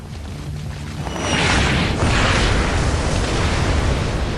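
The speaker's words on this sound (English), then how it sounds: "Jesus, that's not mortar fire. Sounded like Katyusha's." Katyusha rockets fire and explode in Splinter Cell: Blacklist, a heavy rumbling barrage that swells in after a quieter start and roars on as a dense, sustained wash of blasts.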